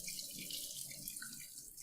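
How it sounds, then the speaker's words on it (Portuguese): Cloudy rice-rinsing water pours steadily out of a bowl into a sink, a continuous close splashing stream with no voices. "Escorremos de novo essa água que saiu bem branquinha."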